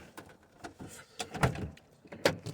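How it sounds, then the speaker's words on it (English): Someone unlocks the door of a 1970 VW car: a handful of close, short metallic clicks and clunks, irregularly spaced, with no talking. "Let me unlock this door here."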